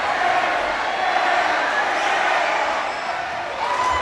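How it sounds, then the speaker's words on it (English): High school basketball crowd in a gym during a fourth-quarter free throw by Mountain Crest, a steady loud roar of jeering and shouting voices filling the whole clip without break. "the crowd lets Webb have it."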